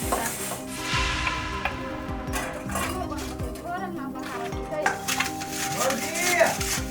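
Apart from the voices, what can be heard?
washing dishes, pots clattering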